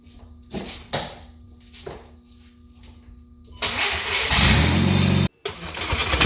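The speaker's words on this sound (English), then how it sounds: "The wheels are spinning as I started the car in gear just to prove that it's actually working." A Volkswagen Jetta drift car build, converted to rear-wheel drive, cranks and fires up while in gear with its wheels spinning. Quiet rustling comes first, then the engine catches loud and close, rising to a strong roar with a brief cut before resuming.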